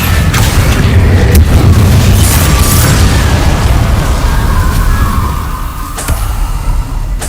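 Loud, sustained booming blast from the Confringo fire spell in Hogwarts Legacy, a rumbling explosion that rolls on for several seconds with crackling bursts and a sharp impact near the end.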